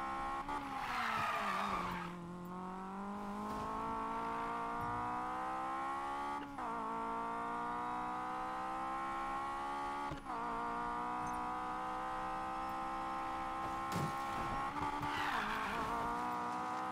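Tires squeal in long sustained skids as a 1965 Mustang drifts in the racing game Need for Speed Payback, loud and continuous over engine roar, with brief breaks and renewed screeches, no talk.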